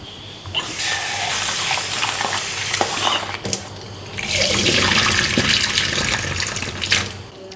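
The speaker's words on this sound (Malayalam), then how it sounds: "ഉഴുന്ന് കഴുകുന്നു." Urad dal being washed by hand in water, with a running tap feeding a steady rush of water and hands swishing and stirring the lentils, close and fairly loud, with a brief pause midway.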